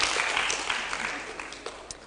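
Audience clapping for someone speaker at a women's workshop, a dense wash of applause that starts loud and slowly tapers off over about two seconds, with a few scattered claps standing out toward the end.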